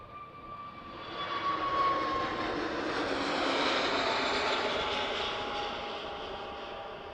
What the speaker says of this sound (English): enjoy your KLM A321neo to Copenhagen